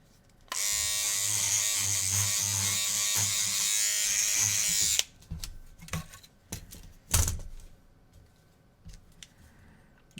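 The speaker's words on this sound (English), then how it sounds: "I really like the mechanical toothbrush" A mechanical toothbrush dipped in alcohol buzzes steadily and loudly while scrubbing PS4 drive rollers, then cuts off, followed by scattered clicks and rustling handling noises.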